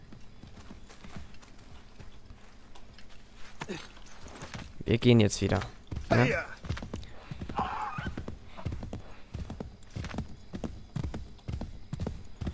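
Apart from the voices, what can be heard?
horse hooves in Assassin's Creed 3 video game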